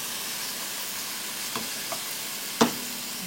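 Sliced mushrooms fry in a pan with a steady soft sizzle, broken by a few light scrapes and clicks of a utensil stirring, the sharpest knock coming near the end.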